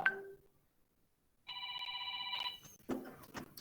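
A telephone rings once as a moderately loud electronic trill lasting about a second, following a quiet pause, with faint rustling and muffled noises after it.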